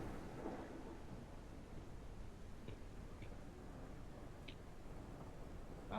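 Rain and low rolling thunder in a video game, a steady dull rumble with a wash of rainfall and a few faint ticks, with no voices over it.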